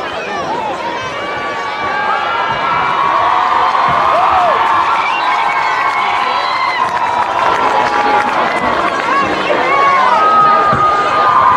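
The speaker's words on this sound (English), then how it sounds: "Hurricane home crowd making some noise." The Hurricane home crowd at an East Hamilton high school football game roars in a sustained wave of cheering and whooping that swells and stays loud, with shouts and whistles scattered through it.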